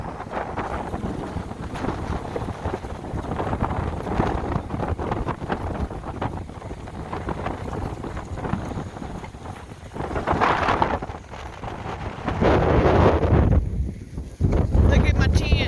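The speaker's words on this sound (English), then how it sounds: "Look at how strong the wind is blowing." Strong wind gusting across an outdoor campsite, buffeting the microphone with a steady roar that surges louder in the later seconds; faint voice-like sounds appear under the noise.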